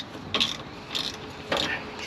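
Three short bursts of close ratchet clicking as a bolt is turned on the rear anti-roll bar of a VW Caddy 2K van, with quiet room noise between the strokes.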